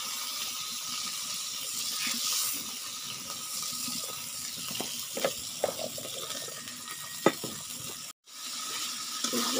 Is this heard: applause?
no